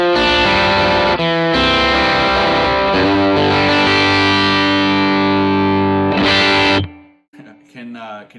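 Distorted electric guitar played through spring reverb on the bridge pickup, loud sustained chords ringing continuously, then cutting off abruptly with a brief reverb tail and faint handling noise.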